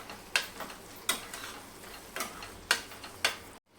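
A spoon scraping and stirring minced mutton keema with softened onion, oil and fresh coriander in a pan, several sharp, evenly spaced clinks and scrapes over a faint sizzle, quiet and close, with no talking.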